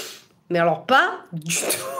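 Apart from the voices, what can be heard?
sneeze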